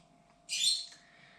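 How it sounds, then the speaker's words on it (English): A pet bird gives a single short, bright squawking chirp lasting about half a second, faint and set in the background of a quiet room with a low steady hum. "Apologies if you can hear Peaches the bird in the background."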